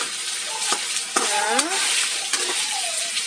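Meat browns in a pan with onion, garlic and tomato for ginisang upo, a bright crackling sizzle with sharp spits and a few thin whistling tones over the frying.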